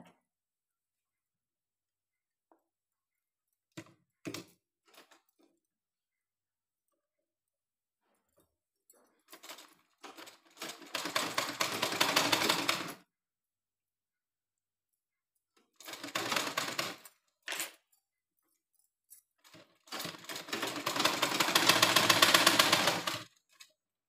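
A sewing machine stitching a blouse runs in two long bursts of rapid mechanical whirring, with short taps and clicks between them in an otherwise quiet room.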